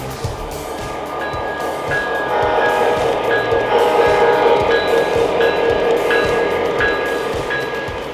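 An MTH Premier SD60E O-scale model diesel locomotive with Proto Sound 3.0 gives a loud steady engine rumble and hiss, with rhythmic clicking of the rails running throughout.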